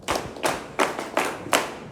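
Five loud, spaced claps in a school classroom, each a sharp slap with short gaps between them, alone with no talk.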